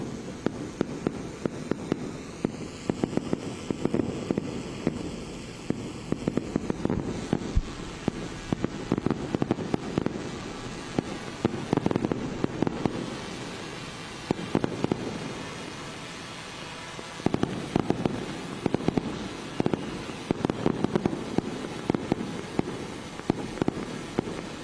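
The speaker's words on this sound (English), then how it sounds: "Fireworks being displayed there." Fireworks bursting over a national celebration with a drone show, a steady stream of crackling pops and booms continuing throughout at moderate distance, with a brief lull midway.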